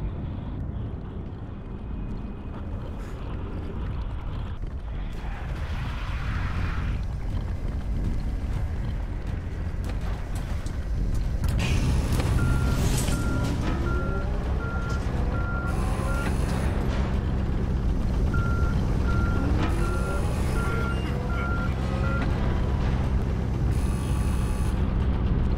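Vehicle starting up again in the horror video game In Sound Mind after a fuse is inserted and brakes released: a loud mechanical rumble rising midway, with repeated steady beeping tones and rising engine-like whines over a dense low drone.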